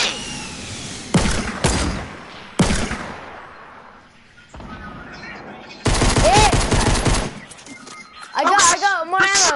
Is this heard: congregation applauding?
no